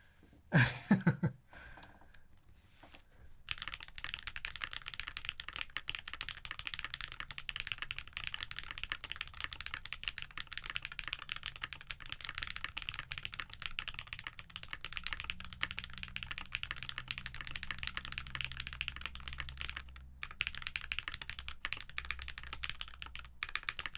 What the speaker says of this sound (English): Sounds like a midway 60 with Techno Violet.